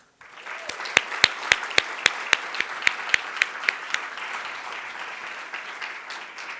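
Audience applause at a business symposium roundtable welcoming a moderator, a crowd's dense clapping with one loud, close clapper beating a steady rhythm before thinning out.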